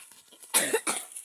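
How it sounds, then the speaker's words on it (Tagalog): A person gives two quick, close coughs in a row, fairly soft, after a moment of quiet background. "May mga ubo."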